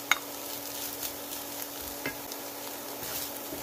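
Sliced ginger, fermented black beans and scallion stir-frying in leftover shrimp oil in a wok, a soft, even sizzle with occasional light stirring clicks, fairly quiet and without speech.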